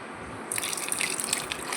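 Water runs and splashes as mangoes are washed, a soft steady trickle with light drips starting abruptly and continuing close by.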